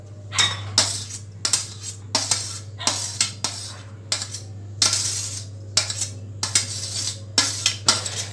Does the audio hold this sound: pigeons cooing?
no